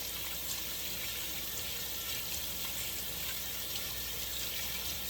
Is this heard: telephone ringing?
no